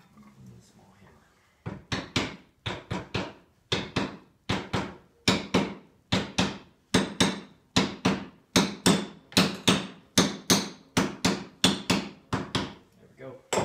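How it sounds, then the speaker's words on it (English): A small hammer taps metal while a governor and gear are refitted on a 1928 engine, in a steady, rapid series of sharp, close strikes, roughly two per second, continuing for several seconds. "small hammer."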